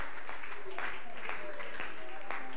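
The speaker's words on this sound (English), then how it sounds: "Let's give the Lord a hand clap of glorious praise" Church congregation clapping hands in praise at an evangelistic service, a run of sharp, evenly spaced claps against a soft crowd background.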